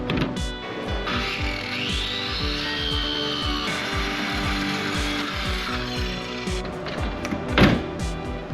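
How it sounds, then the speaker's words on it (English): A power tool shaves a half-inch strip off the lip of a truck tailgate, a continuous whining grind with a rising and falling pitch and scattered knocks, plus a sharper thud near the end. "So we're just going to shave off like a 1/2 inch strip down there,"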